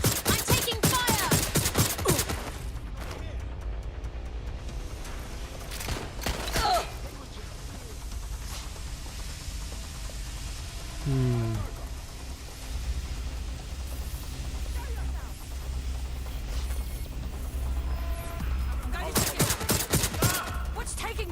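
Gunfire in Watch Dogs Legion, set in London: loud rapid bursts of automatic fire open the scene and return near the end, separated by a long stretch of low rumbling ambience with scattered single shots.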